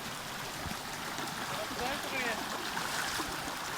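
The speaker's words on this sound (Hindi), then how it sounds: "ये देखिए कैसे इस पानी में चला जा रहा है।" A vehicle pushes through shallow running water on a rough mountain track, producing a continuous wash of splashing and rushing water that stays fairly faint and even throughout, with a voice faintly present in the background.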